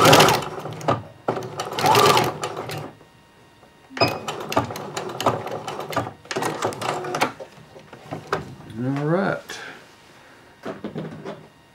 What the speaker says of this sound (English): Now we have our seams sewed up.